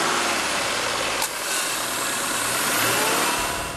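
A Subaru Crosstrek's 2-liter boxer engine hums steadily, with a slight rise in revs partway through, close and continuous with no talking.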